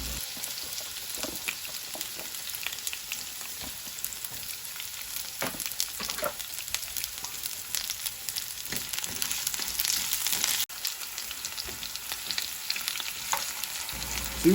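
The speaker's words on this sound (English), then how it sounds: "we're going to put those cubed potatoes in our saucepan, and we want to brown them on each side" Cubed potatoes brown in a saucepan for chicken biryani, a steady close crackling fry with scattered pops and occasional stirring clatter, continuous throughout with no talking.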